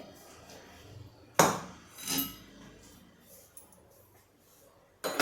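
A pot of dal (varan) comes off the stove and is set down: a sharp metallic knock, then a duller clattering bump, and another clank at the end, with quiet kitchen background between.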